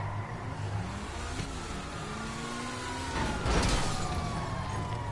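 A police car siren wails with rising and falling sweeps in the GTA video game, heard over a continuous engine and road rumble that gets louder toward the end.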